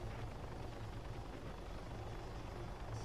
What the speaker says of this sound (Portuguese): Muito forte esse helicóptero.